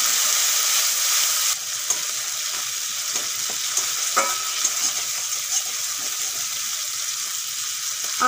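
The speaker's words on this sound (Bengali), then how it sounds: "আদা আর কাঁচা লঙ্কা ভাজা হয়ে গেছে" Ginger and green chili paste with a few raisins sizzles steadily in a hot pan, a loud continuous fry with occasional stirring scrapes and no voices.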